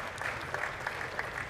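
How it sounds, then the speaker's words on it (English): A crowd at the Lancaster Archery Classic pro finals applauds the Lancaster Archery staff, a brief, even wash of clapping that sounds somewhat distant. "Please, I'd ask for a round of applause for the staff of Lancaster Archery"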